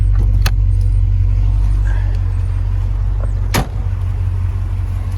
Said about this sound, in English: you can hear the rumble of that V8